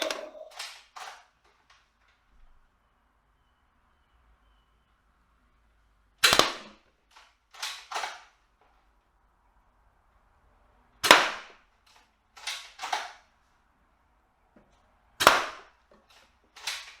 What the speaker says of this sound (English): and then we'll take it for a little test shot.